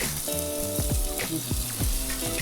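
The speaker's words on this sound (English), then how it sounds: "We have done nothing but added onions and peppers to a pan" Onions and peppers sizzling in a pan, a continuous close bright crackle with a few clinks and scrapes of a utensil, no talking.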